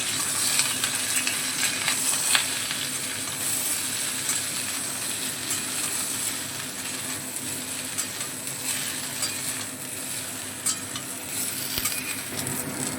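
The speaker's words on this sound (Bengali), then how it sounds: "সমস্ত সবজিগুলো আবারও তেলে একটু নেড়ে ছেড়ে নেব।" Vegetables are stirred in hot oil in a pan, frying with a steady sizzle and hiss while the spoon scrapes and clinks against the metal, close and continuous with no talking.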